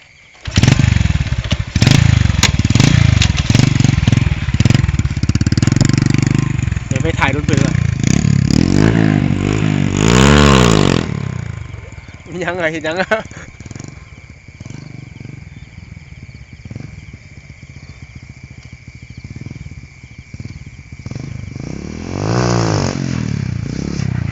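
A motorcycle at a rural Thai youth hangout is started and revved hard several times, loud and close, with rising and falling engine pitch, then settles before another rev, as people talk over it.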